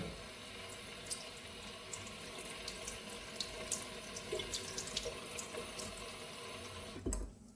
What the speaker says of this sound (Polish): Ja na początku moczę pod kranem pędzel.